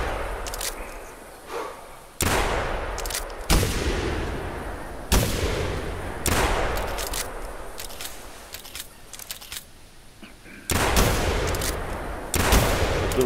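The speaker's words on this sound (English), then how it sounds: "Just shoot what you see, Gambo." Gunshots in the hunting video game theHunter, with geese, red deer and roe deer as quarry. Several sharp shots at irregular intervals, each followed by a decaying echo, heard alone with no talk.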